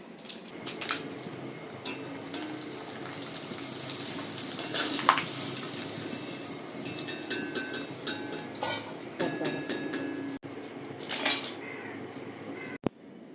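Potato chips fry in hot oil, made as a large batch meant to stay white rather than browning, with a steady broadband sizzle throughout and occasional soft clinks of a utensil against the pan; no talking.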